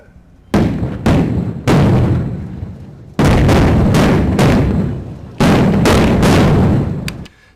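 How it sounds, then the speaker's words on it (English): Explosion sound effects from an original action-footage audio track boom out in a rapid series of heavy, distorted blasts, clipping and overblown, each with a long rumbling tail and no voices. "Now we get some explosions in there."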